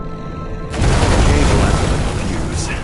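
A flooded transformer blows in a video game with a sudden heavy boom, followed by a dense, rumbling roar of fire and debris that sustains loudly to the end.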